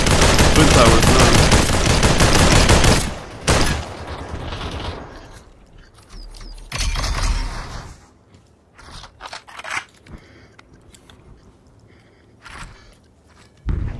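Gunfire in the VR shooter Population: One, with a loud rapid burst of shots at the start, then scattered sharper single shots and quieter bursts spread out over the rest.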